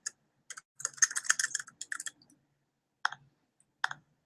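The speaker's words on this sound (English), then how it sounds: "I'm typing it here anyway, and then I can simply go ahead and click" Bursts of typing on a computer keyboard, with close, crisp key clicks in a busy cluster followed by two separate single clicks, quiet room with no talking.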